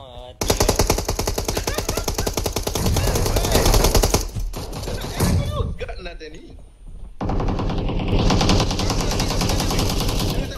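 Rapid automatic gunfire in PUBG Mobile on the Miramar desert map, dense bursts of loud crackling shots that pause briefly midway and resume, with players' voices talking over the game.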